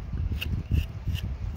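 A knife carving the tail of a small wooden duck outdoors, with short close scraping and rasping strokes in an uneven rhythm, fairly quiet.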